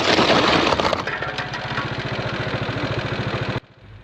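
A motorbike crashes after hitting a lizard on a road in Thailand: a loud, scraping, breaking clatter for about a second, then a motorcycle engine idles steadily until it cuts off abruptly.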